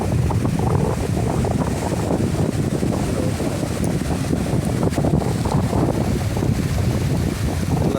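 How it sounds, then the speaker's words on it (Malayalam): Ocean waves where a beach meets a river mouth at Onslow, Western Australia, heard as a steady loud wash of surf mixed with gusting wind buffeting the microphone. "ബീച്ചും പുഴയും കൂടെ ചേരുന്ന ഭാഗത്തും തിരമാലയുണ്ട്"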